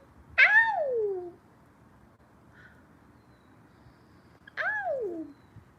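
A pet cat gives two distinct meows, close and clear, separated by a few seconds of near silence.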